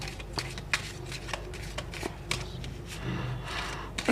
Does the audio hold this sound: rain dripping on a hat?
no